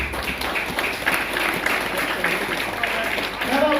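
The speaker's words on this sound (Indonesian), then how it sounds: "Mari kita memberikan aplaus." Applause from a church congregation at an anniversary service, a dense steady wash of clapping hands filling the room throughout, with some crowd noise mixed in.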